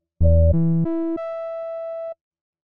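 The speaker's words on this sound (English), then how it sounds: "here we are with our synth sound that now has the seventh harmonic of the first note amplified" A synthesizer plays a rising sequence of four sustained tones with bright, buzzy overtones, the seventh harmonic of the first note amplified; the last note held longest before cutting off.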